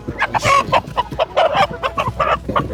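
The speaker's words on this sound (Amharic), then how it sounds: "እነዚህ ዶሮዎቹ አሁን ላይ ያቸው በደንብ አርገሽ ምርጥ ዶሮ ናቸው" Chickens at a busy Ethiopian Easter market, a dense run of loud, close clucks and squawks in quick irregular bursts, with a rooster-like cry among them and no clear talk over the birds.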